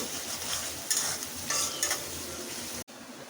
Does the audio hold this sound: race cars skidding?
no